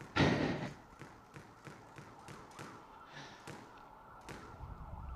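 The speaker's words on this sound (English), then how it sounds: "Whistling of sirens in the distance." A faint siren wails in the distance, its steady tone running beneath a few sharp thuds and slaps of a squash ball nearby, during a professional squash match at the Palm Hills Squash Open 2025.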